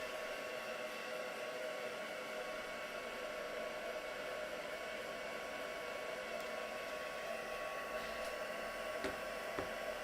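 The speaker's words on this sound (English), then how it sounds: "drying it off a little bit here before I add any colours or anything else to it" A hair dryer blows steadily on a piece of artwork to dry it before colour is added, giving a continuous, even whooshing roar that holds for the whole stretch with no voices over it.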